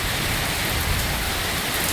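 Heavy rain pours at night during a storm with lightning, a dense, steady roar of drops hitting surfaces, loud and close, with no voices.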